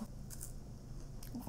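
A few brief, crisp crunches and bites of a Kit Kat, close and fairly quiet, scattered over a steady low background hum.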